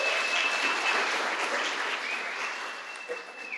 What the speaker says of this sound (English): Give yourself another hand.